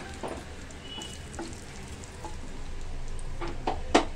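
Mustard seeds, cumin and bay leaves sizzling in hot tempering oil, a close, continuous frying hiss broken by small crackles and pops that grow sharper toward the end.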